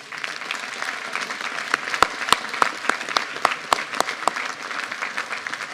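An audience at a New Year's civic ceremony applauds a medal recipient, steady crowd clapping with a few sharp, distinct claps standing out near the front, continuous and moderately loud.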